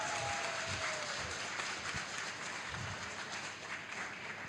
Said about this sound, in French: on applaudit Jean-Philippe.